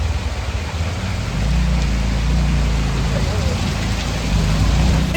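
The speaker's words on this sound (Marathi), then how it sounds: "पाऊस काय थांबायचं नावच घे ना बाबा" Heavy rain pours down during a night of travel through flooded streets, a dense, constant roar with a low rumble beneath it that grows slightly louder partway through.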